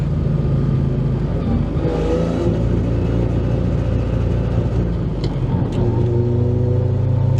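A cheap drift car's engine, stuck at a 3,500 RPM limit during a drifting session in Australia, drones loudly and close, its note rising and holding throughout.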